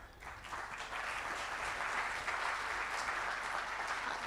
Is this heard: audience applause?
yes